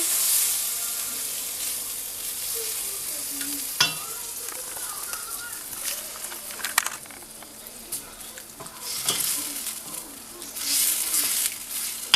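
Beef cooked Chinese-style with tomato sauce and soy sauce is stirred in a pan, giving a soft continuous sizzle broken by occasional clinks and scrapes of the utensil, fairly close and without speech.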